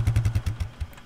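A vehicle engine in Arma 3 chugging with a rapid, regular low thumping pulse, about a dozen close, loud throbs that slow slightly and fade toward the end, with no voices.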